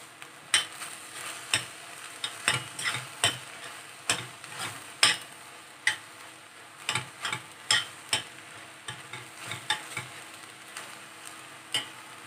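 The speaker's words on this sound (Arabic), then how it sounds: "كده اللحمه خلاص استوت" Minced meat cooks in a pot for Egyptian riqaq, with a soft sizzle under a steady run of sharp spoon scrapes and taps against the pot, close and fairly quiet.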